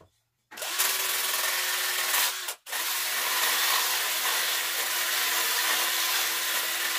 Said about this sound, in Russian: закрутить с помощью